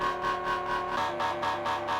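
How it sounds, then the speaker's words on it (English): An AI-generated analog-style synthesizer patch emulates a sample from a song, producing a buzzy, distorted harmonic tone that pulses rhythmically and drops in pitch about halfway through. "what you hear is Synth Plant trying to emulate the sample that you provided"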